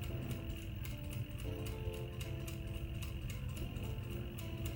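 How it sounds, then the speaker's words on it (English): A sewing machine stitches a fabric seam for a French seam, making a continuous, fairly quiet mechanical hum with a fast, regular ticking of the needle throughout. "then you continue to stitch all the way down"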